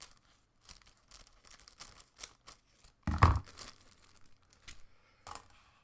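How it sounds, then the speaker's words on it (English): Sealed plastic bag holding clear sprue parts for a Hasegawa 1/48 F-86F Sabre model kit crinkles softly, then large scissors snip through it with one sharp cut amid quiet rustling. "they're in a bag, which I shall now open with my nice big scissors"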